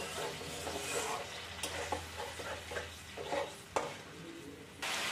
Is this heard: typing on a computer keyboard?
no